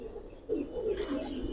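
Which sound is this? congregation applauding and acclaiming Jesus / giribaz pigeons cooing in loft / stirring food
giribaz pigeons cooing in loft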